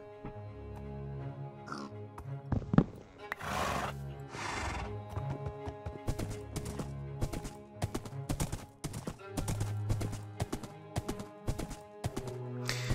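A Minecraft horse whinnies loudly a couple of times, then hooves clop in a steady, fast rhythm, close by with no talking.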